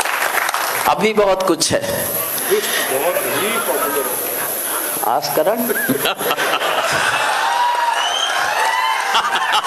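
Applause and cheering erupt from a crowded audience at a Hindi poetry recital, swelling in bursts under a speaker's voice, with whoops and scattered laughter mixed into the clapping.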